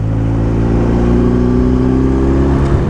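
A new motorcycle pulling hard at low revs in sixth gear, its steady engine drone rising gradually in pitch, loud and close for the full stretch with no voices.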